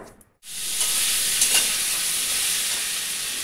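Spinach fries in a pan, a continuous loud sizzle and hiss that starts abruptly after a short pause and stays steady and close throughout.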